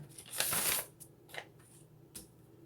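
Tarot cards are shuffled by hand in a few quick papery riffling bursts, one longer flurry followed by short brushing flicks, close and fairly quiet.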